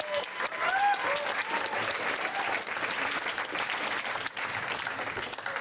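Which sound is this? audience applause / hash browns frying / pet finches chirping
audience applause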